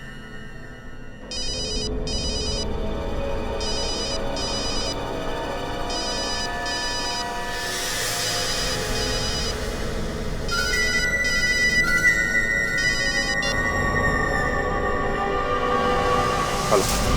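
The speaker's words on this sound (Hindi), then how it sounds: "जब तुम्हें फोन आएगा तब।" A telephone rings in a tense detective drama scene, a repeating electronic ringtone pattern of short bursts that keeps going for the whole stretch over a bed of background music, with no voices.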